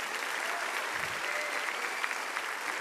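A church congregation applauds steadily during a Christian worship service, a dense, even wash of clapping from many hands filling the room without pause.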